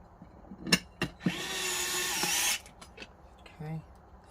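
A power drill drives screws into an electric unicycle motor mount: a couple of short bursts, then a sustained whirring run of about a second, followed by clicks and a brief low buzz, close and moderately loud.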